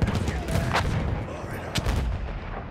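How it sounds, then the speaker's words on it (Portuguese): Video game machine gun fire in Battlefield 1, a rapid burst of heavy booming shots with deep rumbling echoes, loud and close. "Então pronto, esta é a metralhadora."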